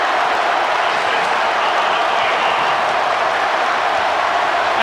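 A basketball crowd at an Alabama home game roars and applauds after an alley-oop, a loud, sustained wash of clapping and cheering that holds steady throughout.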